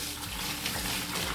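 A water, molasses and salt mixture pours into a bucket for a backyard morel mushroom kit, making a continuous close gushing splash with no voices.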